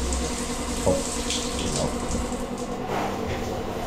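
Water rushes hard from a rain shower head and faucet in a tiny house bathroom, a steady, close, continuous hiss and splash with no talk over it.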